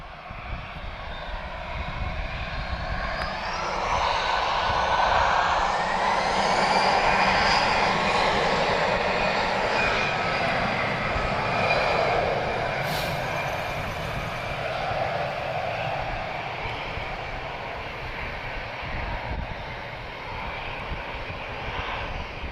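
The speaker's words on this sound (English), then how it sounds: "This is an A320, so this is one of the classic ones. This is TAP's oldest aircraft." A TAP Airbus A320, the airline's oldest, roars steadily at Lisbon Airport with a loud, sustained engine rumble and whine that swells slightly midway and holds throughout, with no voices.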